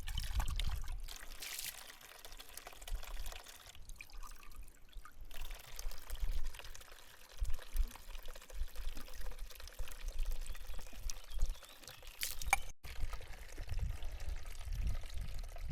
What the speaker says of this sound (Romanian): Ciuciurul cu apă limpede și rece ca gheața este la ceva distanță de casă.